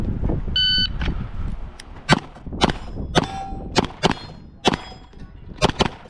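Pistol rounds striking steel targets on a USPSA shooting stage, an activator plate triggering a swinger: a string of sharp, ringing metallic clangs at irregular intervals, loud and close, after a brief electronic beep.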